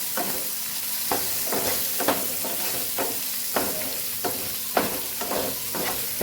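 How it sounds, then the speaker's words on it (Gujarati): Green chillies sizzle and sauté with salt in a pan, a soft steady frying hiss broken by regular scraping stirs of a spoon, close and fairly quiet with no talking. "એક મોટું થઈ ગયું છે, મીઠું ઉમેરીને સરસ આપણે સાતડી લેવાનું છે"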